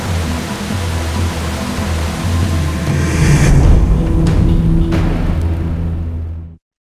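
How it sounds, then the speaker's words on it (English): An 80-foot waterfall in the Panama jungle gives a loud, continuous roar of rushing water close by, swelling slightly before ending abruptly. "I've come up against an 80-foot waterfall, and my only way out is down."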